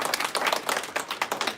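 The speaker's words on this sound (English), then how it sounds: "please give yourselves a round of applause" An audience at a World Hypnosis Day celebration claps in a brisk, dense burst of applause, many hands close together with no speech over it.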